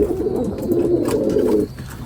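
A pigeon coos in a low, throaty, rolling burst lasting over a second, close and clear, then stops, leaving faint background noise.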